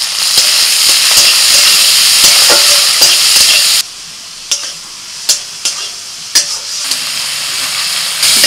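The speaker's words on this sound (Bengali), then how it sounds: "এই চিংড়ি মাছটা আমি দিয়ে দিচ্ছি কড়াই।" Shrimp sizzle loudly in hot oil in a wok, a dense hiss for several seconds that then drops away, leaving sharp clacks and bursts of stirring and spattering up close.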